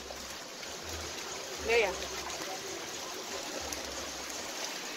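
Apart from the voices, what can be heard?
flooded river water flowing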